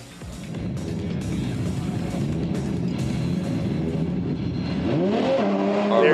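A Toyota JZX100 Mark II drift car idles and revs at the start line at Fuji Speedway during Formula Drift Japan qualifying, a loud, steady engine drone that climbs into a sharp rising rev near the end.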